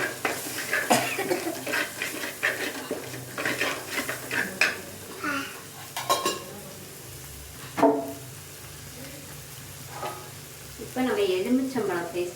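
Frying food sizzles steadily in a pan while a utensil stirs and scrapes, with occasional clinks of metal against the pan.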